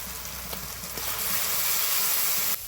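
Garlic paste hits hot oil in a pan with browned onions, giving a steady, close sizzle and hiss that swells louder midway and cuts off sharply near the end.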